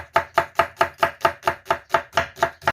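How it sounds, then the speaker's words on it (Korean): An onion is sliced thinly with a knife on a board: about a dozen crisp, evenly spaced chops in a quick, steady rhythm, close and clear. "전처리 양파는 얇게 채 썰어 주세요."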